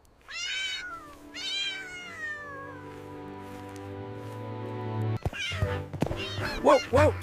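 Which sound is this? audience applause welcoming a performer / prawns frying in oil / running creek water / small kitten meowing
small kitten meowing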